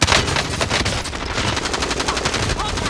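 Rapid automatic gunfire in the Call of Duty video game, dense close bursts of shots rattling continuously for a few seconds, with faint voices beneath.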